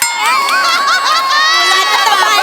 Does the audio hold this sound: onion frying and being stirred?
no